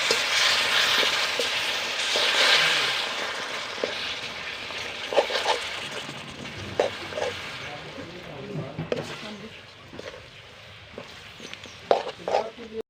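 Jaggery melting with a little water in a hot pan for peanut chikki syrup gives a steady close sizzling, frothy bubble that fades slightly over time, with occasional stirring clinks and knocks.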